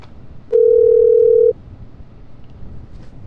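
A steady telephone tone sounds for about a second while a call connects, then cuts off cleanly, leaving quiet background noise.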